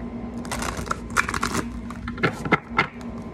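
Quick papery riffles and snaps of cards being shuffled, several short bursts in a row, close up against a steady low hum.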